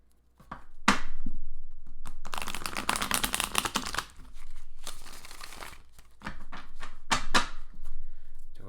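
Tarot cards shuffled by hand in a series of crisp riffling and rustling bursts, close and fairly quiet, with short pauses between shuffles and no talking.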